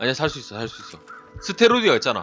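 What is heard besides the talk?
crow cawing in the video game The Long Dark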